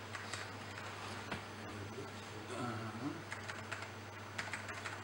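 Someone types on an Apple II computer keyboard in a public setting, with scattered clicks and key presses close by under a steady hum and murmuring voices.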